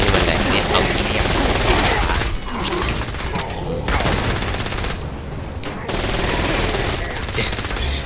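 Sustained SMG fire in Saints Row: Gat Out of Hell, loud continuous rattling bursts with brief gaps, blended with game noise and someone talking over it.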